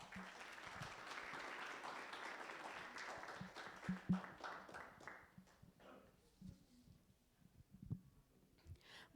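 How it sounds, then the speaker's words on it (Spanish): Audience applause at a school literature presentation on Virgil's Aeneid, a dense burst of clapping that thins out and fades toward the end, with scattered claps and a few faint voices. "un fuerte aplauso por favor a Sayuli"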